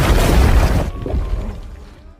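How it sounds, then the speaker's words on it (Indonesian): Landmine blast in a WWI trench bunker set off by a rat, a loud broadband burst of boom and crumbling debris that drops off after about a second into a fading rumble. "tiba-tiba ranjau tersebut meledak dikarenakan oleh seekor tikus"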